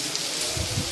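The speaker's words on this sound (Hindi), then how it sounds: "आज सुबह से ही बहुत ज़बरदस्त बारिश हो रही है" Heavy rain pours steadily in Bareilly, driven by strong winds, with a dense, even hiss that holds through the whole short stretch and no voices.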